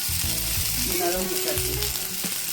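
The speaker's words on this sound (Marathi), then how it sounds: "थोडी आता तेलात फ्राय करते दोन मिनटं फ्राय करून घ्यायची जरा" Ridge gourd peels frying in oil in a pan, close steady sizzling with scraping and stirring clatter, continuous for a couple of seconds with no talk.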